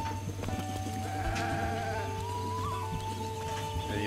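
A goat in the video game Zelda: Breath of the Wild bleats in short wavering calls over a steady low hum of game ambience, with no talking.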